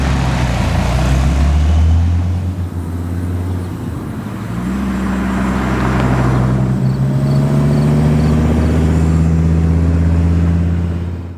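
A supercharged 2002 Dodge Viper GTS cruising on the highway, with a steady low engine drone and road roar from inside the cabin and a slight rise in engine pitch partway through.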